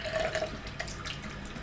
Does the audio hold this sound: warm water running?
yes